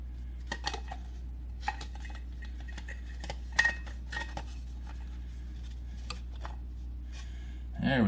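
A small plastic cup is fitted back into a Braun coffee grinder, giving a few faint, sparse clicks and clacks near the mic with a short scrape at the end.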